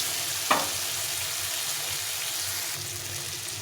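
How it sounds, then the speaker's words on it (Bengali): Spices frying in oil in a pan over lowered heat for chana dal: a steady, even sizzle and hiss, close and continuous, with one brief clink near the start and no talking. "মশলাটা ভাজা হয়ে গেছে"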